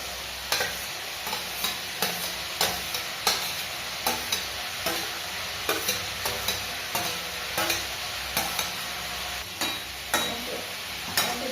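Mushrooms fry in a pan for a mushroom curry, giving a steady sizzle. A spoon scrapes and stirs the pan in quick, regular strokes throughout, and no one speaks.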